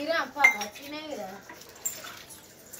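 Metal vessels clinking and clattering as they are scrubbed with lemon and washed: a few sharp close clinks scattered through the clip, mixed with people talking nearby.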